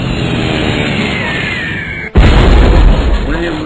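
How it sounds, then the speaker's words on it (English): British soldiers' musket volley erupts as one sudden loud blast, followed by a heavy rumbling roar, breaking through a dense bed of background noise. "The British opened fire."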